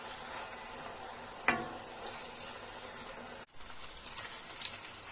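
Onion frying in a pan on a low gas flame for Maharashtrian kandavani, a soft, steady sizzle with faint crackles, one clear stir or scrape of the spoon, and no talking.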